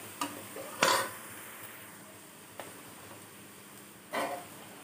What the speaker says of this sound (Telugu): ఇలా కలుపుతూ వేయించుకోండి